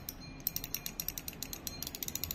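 The clicker of a Camekoon Sea War fishing reel ratchets rapidly as the spool turns, a run of crisp, evenly spaced clicks at close range, moderately loud.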